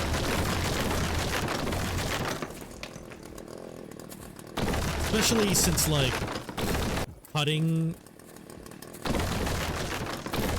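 Chainsaw cutting in a video game: a buzzing engine whine that rises and falls in bursts with short pitch sweeps, loud over talking at times and cut off by pauses.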